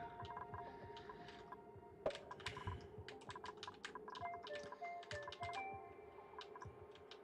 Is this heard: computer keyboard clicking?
yes